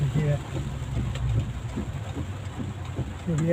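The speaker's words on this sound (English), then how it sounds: "It started to rain very heavily." Heavy rain drumming on a moving car, a dense steady wash over a low engine and road rumble, with someone talking through it.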